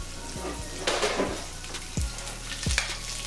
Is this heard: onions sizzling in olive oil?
yes